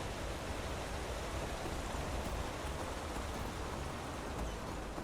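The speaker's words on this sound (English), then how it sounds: "Is it raining again?" Steady rain falling in the fantasy role-playing game Enderal: Forgotten Stories, a dense, even hiss that holds at constant loudness throughout with no talking over it.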